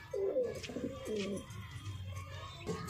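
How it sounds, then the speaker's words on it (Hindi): Bajra pigeons in Tonk, Rajasthan coo in low, throaty rolling phrases, several birds close by and overlapping, with steady soft cooing continuing beneath more prominent calls. "ये देखें वो बाजरा कबूतर"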